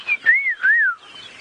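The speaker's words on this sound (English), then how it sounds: "white-browed scrub robins" A white-browed scrub robin sings at sunrise in the African bush, giving a clear run of rising and falling whistled phrases over about a second, with quieter birdsong continuing after it.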